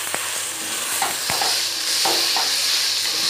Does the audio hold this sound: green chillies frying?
yes